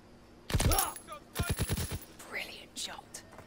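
Gunfire rings out in the video game Call of Duty WW2: one loud shot, then a rapid burst of several sharp rounds, followed by fainter scattered shots, with quiet voices in between.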